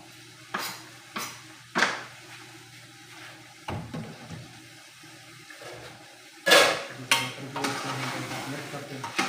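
Chopped tomatoes are stirred into mutton karahi in a pan: several separate scraping, clattering strokes of a spoon against metal over a faint sizzle, close by, with quieter gaps between them.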